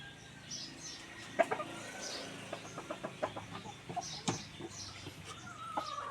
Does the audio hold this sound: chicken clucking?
yes